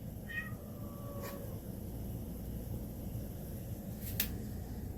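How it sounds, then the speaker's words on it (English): A cat meows softly a couple of times over a steady low background hum, with a faint click later on. "What are you meowing about?"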